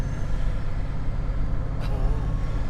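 A Bugatti Veyron cruising with its roof off, a steady, heavy low engine rumble mixed with wind and road noise, close and constant throughout.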